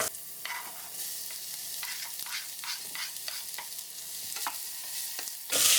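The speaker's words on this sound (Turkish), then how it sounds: "1-2 dakika soğanlar hafif pembeleşinceye kadar kavuracağız." Onions sautéing in clarified butter in a pot, a soft steady sizzle with repeated scraping stirs of a spoon, and a louder burst of sizzling at the end.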